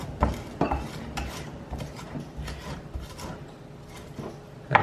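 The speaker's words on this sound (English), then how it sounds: "press down and pull it back across the salt, and keep doing that, and you'll grind it into a nice fine paste" A knife blade pressed and dragged through garlic and salt on a board to grind it into paste, heard as close, repeated gritty scrapes and rubs with a few sharper knocks, no talking.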